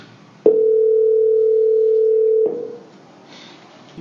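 Telephone dial tone: a single steady tone starts abruptly, holds loud and unbroken for about two seconds, then cuts off into quiet line noise.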